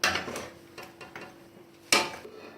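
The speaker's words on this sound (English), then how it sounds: "So I'm plating some up now" Oxtail stew with butter beans being plated: a spoon scrapes and clinks against dishes in a few short strokes, the loudest clatter near the end, with no voices.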